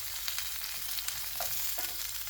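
Sliced pre-boiled potatoes fry in a cast iron pan at a lakeside campsite, a steady close sizzle and crackle with a few soft stirring scrapes, no talk.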